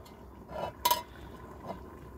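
A Dutch oven lid is set down on the pot of chili mac: one sharp metallic clank near the middle, then a softer knock, against low kitchen background with no talk.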